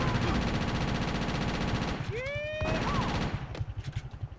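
In GTA: Chinatown Wars, guns fire at bikers as a steady rattling stream that thins into separate rapid shots near the end, while game voices and whooshing effects sound over the top.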